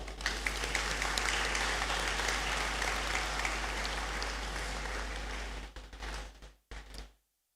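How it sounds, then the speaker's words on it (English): Audience applause for a professor at a university graduation congregation ceremony: dense, sustained clapping from a large crowd, steady and full for several seconds before thinning and cutting off abruptly. "A big clap."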